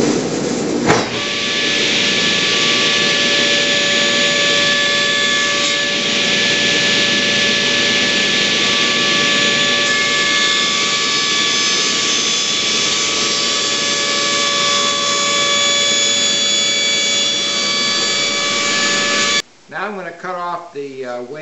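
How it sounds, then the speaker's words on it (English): A power saw cuts wooden boards for the top frame of a navy sea chest, a loud steady whine holding for about nineteen seconds before cutting off, followed by a short burst of talk. "we'll cut the one side, we'll flip the board around, cut the other side, do that to everything, and then we'll cut out that center section"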